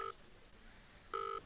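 Two short dial-tone beeps from a phone being dialed in the video game Ten Dates, separated by a brief quiet gap, faint and close with a soft background hum.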